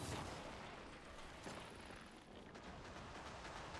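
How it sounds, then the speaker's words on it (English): Distant gunfire and booming shots from the Destiny 2 PsiOps Battleground at the Cosmodrome roll on continuously for a few seconds in a noisy, dense wash, with no voices. "I wonder where he's shooting at."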